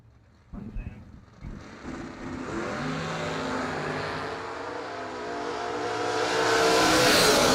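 Ford and a 1964 Chevy II launch in a drag race, a couple of sharp thumps giving way to a loud sustained engine roar that builds steadily toward the end, with no clear talk over it.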